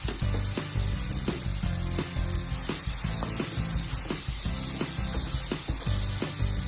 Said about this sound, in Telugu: ఇంకొంచెం నెయ్యి వేసేసుకొని క్యారెట్ తురుము, పచ్చి కొబ్బరి తురుము వేయించేసుకోవాలి.